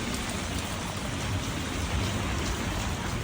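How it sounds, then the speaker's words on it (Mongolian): Rain falls in a steady, dense hiss and patter, close and continuous with no breaks or voices. "Яаж ороод байгаа мэ бороо"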